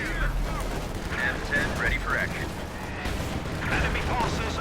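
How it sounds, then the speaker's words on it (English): An SU-85 tank destroyer firing on infantry in Company of Heroes 2, heavy booming shots amid dense battlefield gunfire and rumbling, with radio-style unit chatter over the top. "SU-85 still firing at infantry."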